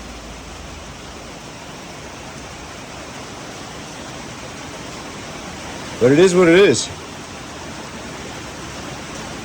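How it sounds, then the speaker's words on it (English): Heavy rain pours steadily outdoors near a 1969 Mustang parked under shelter, a constant loud hiss throughout, briefly overlaid by someone speaking partway through. "And now that I've got it under dry spot, it's just pouring."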